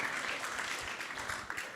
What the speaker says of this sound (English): So let's give all a big round of applause to Mataji.